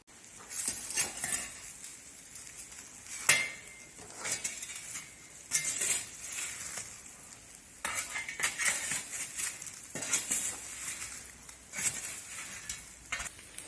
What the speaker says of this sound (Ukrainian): І тепер туди кидаю баранячу ногу.